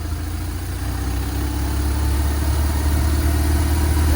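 A BMW GS motorcycle with an oil leak and a worn clutch cruises along at low speed, its engine a steady, close, low drone under constant wind rumble and no talk.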